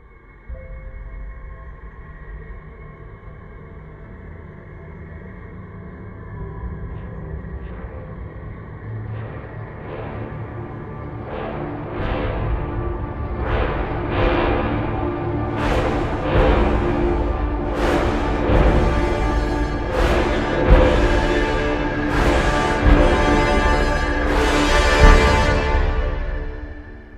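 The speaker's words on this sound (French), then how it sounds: "un bruit vraiment très sourd, très fort, qui vient comme ça, qui monte, qui est croissant" A deep, loud rumble from the Inception soundtrack swells steadily over about half a minute, with rhythmic pulses growing stronger and brighter toward the end, heard alone without voices.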